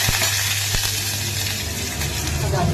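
Green chillies and curry leaves sizzle in hot oil alongside fried cashews and mustard seeds, giving a steady, loud crackling hiss with a few sharp pops throughout.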